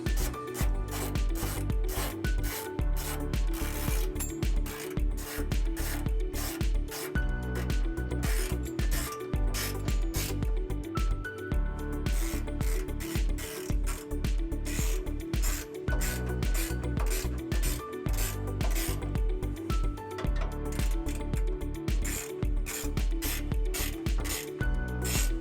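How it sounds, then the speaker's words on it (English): A ratchet fitted with a 13mm socket tightens trailer hitch bolts on a 2016 Chevrolet Colorado, giving a continuous close, rapid clicking and rasping of the pawl with steady rhythm and no talk. "tighten them down using a 13mm socket"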